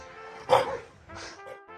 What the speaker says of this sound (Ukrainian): Гарний собака такий